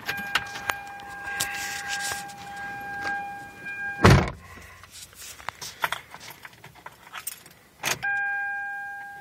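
Car keys for a 1998 Chevy Prizm LSi jingle and rattle up close in cold 33-degree weather, with a loud door thunk midway, a chime tone sounding on and off, and more handling clatter.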